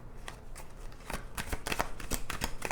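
Tarot cards are riffled and shuffled in a quick run of crisp flutters that grow denser and louder, close-up with no voices.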